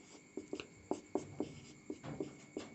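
A pen writes out a geometry problem on paper in a series of short, close strokes and taps. They come in an irregular rhythm over a quiet room hum, with no talking.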